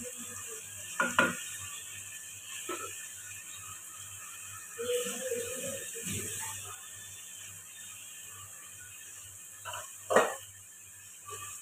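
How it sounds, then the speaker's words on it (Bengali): Tomato puree being stirred in a pan for a vegetable and fish curry, quiet sizzling underneath with a few distinct clinks and scrapes of a spoon against the pan, spaced irregularly and fairly faint. "এবার টমেটো পিউরিটা এটাকেও একটু নাড়তে হবে, না হলে এর একটা কাঁচা গন্ধ ছাড়বে"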